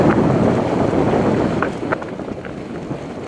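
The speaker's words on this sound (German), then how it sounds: "Der Wind ist eisig" Icy wind gusting across an open snowy winter landscape, a loud, steady rushing roar buffeting the microphone and easing slightly toward the end.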